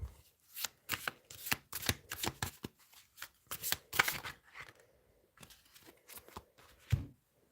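A deck of tarot cards is shuffled in a close, dry series of riffling bursts and slaps, irregular in rhythm, with a heavier tap near the end and no talking.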